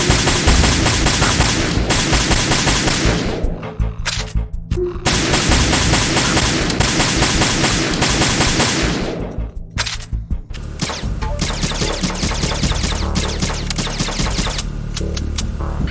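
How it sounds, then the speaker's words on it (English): USP pistol gunshots in Metal Gear Solid 2, loud bursts of rapid, dense firing in several long stretches, separated by brief pauses. "The gunshots may bring enemy reinforcements running"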